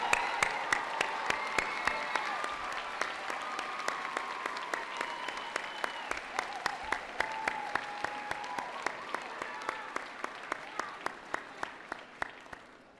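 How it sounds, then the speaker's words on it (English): A seated audience at a school awards night applauds teachers who stand to be recognized, a dense steady clapping with occasional louder claps, fading gradually toward the end. "SEVA teachers, please stand and let's give them a round of applause."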